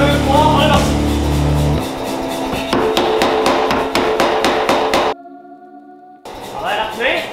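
A forging hammer strikes feather damascus steel in a fast, even run of ringing metallic blows, loud and close, while people talk over the work; it pauses briefly, then resumes.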